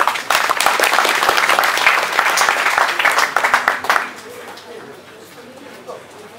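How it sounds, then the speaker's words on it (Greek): An audience at a book presentation in Perachori applauds for Kostas Manouras. The clapping is dense and loud, with a voice over it, then fades out after about four seconds. "Κυρίες και κύριοι, το χειροκρότημά σας για τον Κώστα τον Μανουρά."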